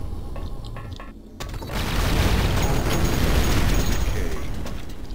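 Explosions from enemy fire in Duke Nukem 3D, with clicks and a short pause, then a loud sustained rumbling blast that holds for several seconds up close.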